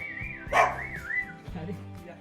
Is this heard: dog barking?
yes